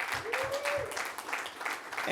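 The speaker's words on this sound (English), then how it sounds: "I know you gave a big round of applause" An audience at the opening of a transitional housing site applauds in short bursts, with someone speaking over the clapping.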